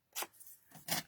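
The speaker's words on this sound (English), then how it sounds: "taking an emery board and sanding the edges so there's no fray" An emery board is drawn over the edges of patterned paper to keep them from fraying, giving two short, soft, close raspy strokes with a quiet gap between them.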